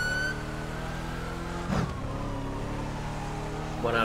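A truck engine in the video game GTA 5 holds a steady, close mechanical drone, with a brief swell near the middle and another at the end as it accelerates.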